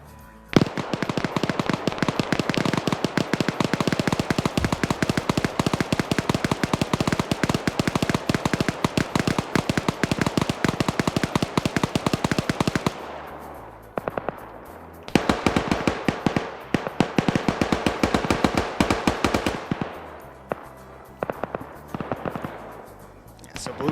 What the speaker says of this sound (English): They're shooting at ghosts